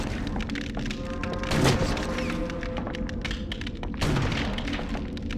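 Two sharp, booming gunshots ring out in the Blair Witch Volume 2: Coffin Rock game, about 2.5 seconds apart, each a loud thud-like crack over a steady ambient game soundscape.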